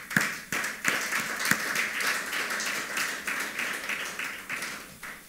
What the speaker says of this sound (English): Why not clap for the Lord?